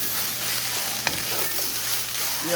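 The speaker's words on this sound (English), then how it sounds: "you're going to mix your eggs into your" Eggs stirred into pork fried rice in a hot pan, with steady close sizzling and frying and a spatula scraping through the rice, one brief knock partway through.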